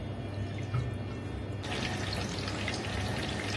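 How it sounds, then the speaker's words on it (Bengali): Arancini made from cold rice frying in oil heated to 170 degrees, giving a steady, soft, crackling sizzle that grows slightly brighter partway through, with no talking. "আমি এখন অ্যানচোনিটা ভাজবো"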